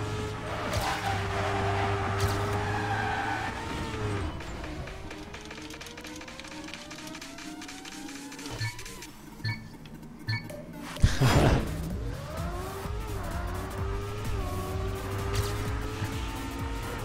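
A car drives around a video game test map, its engine drone rising and falling in pitch with steady running noise, plus a brief crash-like burst near the middle.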